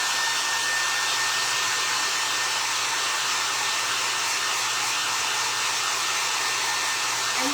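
A hair dryer runs loud and close, drying paint on a handmade vintage-style craft snowman with an unbroken airy roar and low motor hum.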